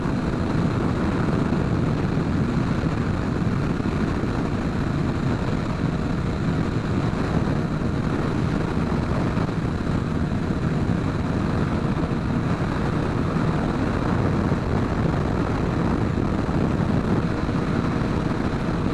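A 240-horsepower Kawasaki Ninja H2 and a Yamaha R6 run a roll race at high speed, producing a steady, dense roar of engine and rushing wind that stays loud and unbroken throughout, with no talk.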